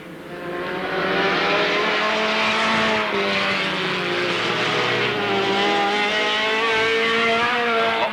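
Race cars lapping the Alwalton Raceway track in 1983, a loud, sustained roar of several engines revving and shifting pitch as they pass, with tire noise mixed into the dense, continuous racket.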